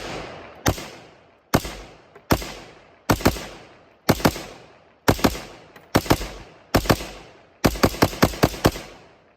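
A firearm empties a full magazine outdoors: about fourteen sharp, loud shots with echoing decay, spaced at first, then fired in a quick cluster at the end.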